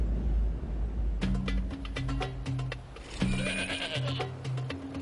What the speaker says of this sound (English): Let's catch this goat.